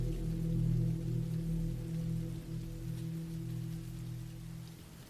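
Steady rain falls in a continuous broadband wash over a constant low droning hum, with no voices and no break in the downpour.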